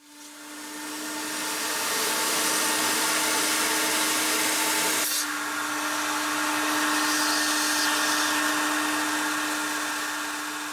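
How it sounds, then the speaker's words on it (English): A carpet extractor vacuums water from the floorboard carpet of a Dodge Ram truck, giving a loud, steady motor whine with a constant hum that runs the whole time, with one brief dip partway through and no voices. "we got the carpet extracted"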